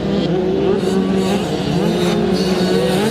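85cc motocross bikes race around a dirt track in a 9-11 age class event, engines droning and revving continuously at close range with a dense, steady roar and faint voices underneath.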